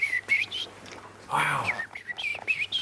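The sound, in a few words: voice imitating a blackbird call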